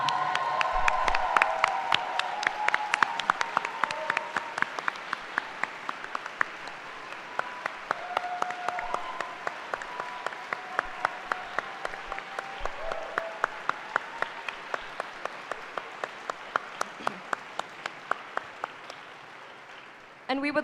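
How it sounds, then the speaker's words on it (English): Graduation-ceremony applause for rising alumni fills the hall, a sustained dense crowd clapping that runs steadily for about twenty seconds, with a few voices murmuring and brief tonal sounds threaded through the clapping. "We would like to applaud you for being there for us then and now."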